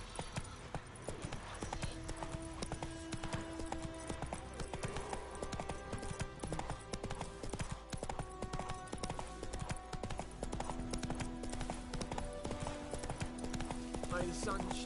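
Horse hooves clip-clop in a steady, rhythmic gallop in a video game, running throughout the clip over background music and game sounds.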